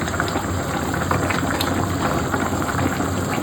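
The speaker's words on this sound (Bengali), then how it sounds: "টকবক টকবক টকবক টকবক টকবক টকবক করে ফুটছে।" Chicken curry bubbling steadily at a boil in a pot, a dense continuous crackle of popping bubbles that holds at an even level throughout, close by with no talk.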